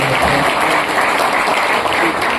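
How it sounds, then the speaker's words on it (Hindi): An audience claps loudly and continuously at a community poetry gathering, a dense and steady wash of applause. "दोनों भैया जी के सम्मान में एक बार जोरदार तालियां हो"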